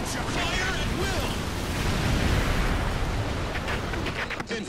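Continuous gunfire and explosions from the video game DOK Defense Force form a dense, loud roar of battle with rapid crackling shots and booming blasts. Voices talk underneath.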